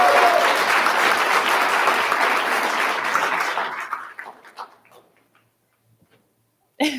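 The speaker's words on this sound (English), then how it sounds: "I don't know if the clapping helps or makes it worse." Audience applause at a school board of trustees meeting, loud and steady clapping for about four seconds that thins into a few scattered claps and then falls silent.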